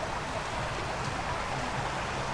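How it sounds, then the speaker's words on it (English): A small stream at a theme park flows with a steady, even rush of water, close and continuous with no voices. "Or the little stream going down."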